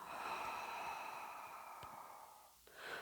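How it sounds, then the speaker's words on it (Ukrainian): Slow, deep breath drawn in and let out during a guided morning wellness practice, a long airy exhale fading before a fresh inhale begins near the end, close and clear with no talking. "І останній раз робимо вдих. І видиха."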